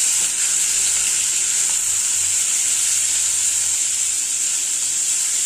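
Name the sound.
sautéing spices with cumin and dried chilies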